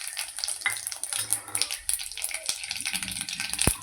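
Mustard seeds and cumin crackle and splutter in two ladles of hot oil in a wok, rapid sharp pops and sizzling close by with a metal clink near the end.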